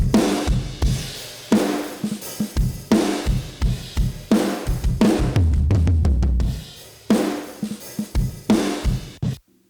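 Heavily compressed metal drum mix with room mics blended in: fast, punchy kick and snare hits with explosive cymbal washes in repeated bursts, loud and close, with short gaps between phrases.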